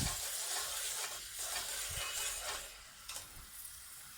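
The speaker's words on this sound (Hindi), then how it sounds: "चॉप किया हुआ प्याज मैं इसमें डाल दूँगी। यहाँ पर मुझे प्याज को जो है वो मीडियम ब्राउन करना है।" Chopped onion frying in hot oil, a loud, close, continuous sizzle with occasional stirring, easing slightly toward the end.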